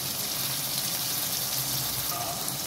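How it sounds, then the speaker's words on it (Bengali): Onions and green chilies frying in hot oil in a pan, giving a steady, moderate sizzle with a soft bubbling hiss throughout and a faint voice in the background. "তেলে পেঁয়াজ আর কাঁচামরিচ দিয়ে দিলাম, একটু ভেজে নিব"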